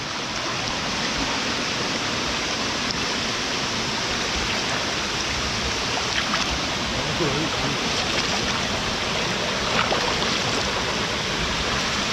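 A rain-swollen stream in the Konkan at night during the first monsoon rain. Water rushes in a dense, steady, close roar with no break, and a few voices murmur faintly under it.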